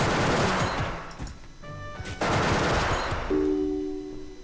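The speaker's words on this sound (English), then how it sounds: "you're going to shoot these dudes" Heavy bursts of gunfire in the tactical game Jagged Alliance 2 Wildfire during a large shootout, loud and dense, with a short lull before another volley. A sustained tone rises near the end.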